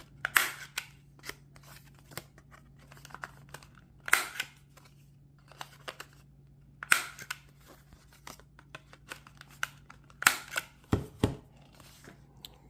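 A 3mm corner rounder punching the corners of handmade tarot cards, heard as a series of crisp clicking punches spaced a few seconds apart, close and quiet, with faint handling rustle between them and a low steady hum beneath.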